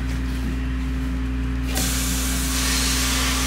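A steady hiss of spray paint starts partway through and keeps going, loud and close, over a constant low mechanical hum.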